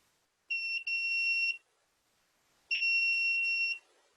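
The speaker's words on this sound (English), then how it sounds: "that buzzer goes off until you actually take it out" An electronic buzzer alarm on a Raspberry Pi trash detector sounds in two steady, shrill beeps about a second long each, separated by a short silence, close and clear.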